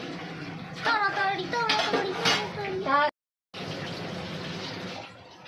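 Water runs steadily from a tap while pointed gourds (potol) are washed in a home kitchen. People talk over the flow, with a short gap partway through.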